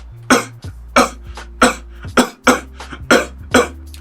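A beatboxer produces a cough snare, a sharp cough-like burst imitating a snare drum with the voice, repeated about eight times in a steady rhythm over low sustained hums, close and loud.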